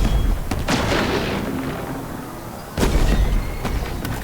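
Tank cannon firing at a Phantom dropship in Halo Infinite, heavy booming blasts with one big shot near the start and another sharp report later over a rumbling battlefield bed, loud and close.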